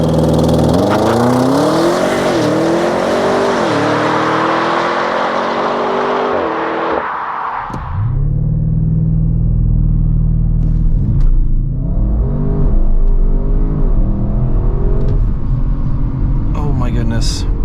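A 2022 Audi RS6 Avant engine roars through a hard launch-control run, rising in pitch through several quick upshifts, then cuts to a deep cruising rumble with further revving, loud and close with steady drive noise throughout.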